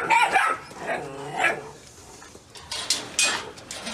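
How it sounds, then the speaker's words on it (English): A large house dog weighing about 110 to 115 pounds barks and yips in close, loud bursts, with a few short calls spread across a brief stretch and a whimpering tone between them. "He's our house dog that we have in the camera for the video."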